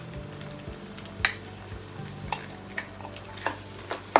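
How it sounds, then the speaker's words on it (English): Snails and shrimps frying in a pan for Nigerian pilau rice, a steady soft sizzle broken by periodic scraping stirs, close and fairly quiet with no talking. "So I'm just going to stir this and let it fry for about 2 minutes or so"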